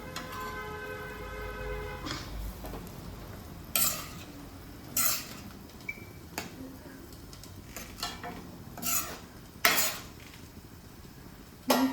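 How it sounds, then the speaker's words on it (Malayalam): Sautéed okra stirred into a boiling curry in a pan, heard as a low bubbling simmer broken by several sharp, separate scrapes and clanks of a spoon against the pan, fairly quiet overall. "ഇത് ഇനി ഈ വെണ്ടക്ക വഴറ്റിയത് ഇതിലേക്ക് ചേർത്ത് കൊടുക്കാം"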